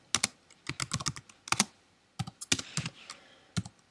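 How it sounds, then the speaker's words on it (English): Typing on a computer keyboard, close and crisp, with bursts of quick key clicks separated by short pauses, including a brief gap midway, and no voices. "type in the author's surname in the text"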